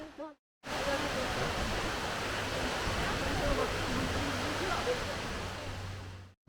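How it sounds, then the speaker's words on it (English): South Falls at Silver Falls, Oregon, roars as a dense, constant wash of falling water, loud and steady for several seconds after a short quiet gap at the start. "This is the final waterfall, number 10, South Falls."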